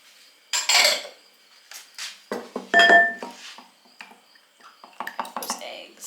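Eggs, milk and melted butter go into a mixing bowl with clinks and knocks of a utensil and bowl, a splashy pour, and scattered clatter, all near and moderately loud, with a voice talking between the sounds.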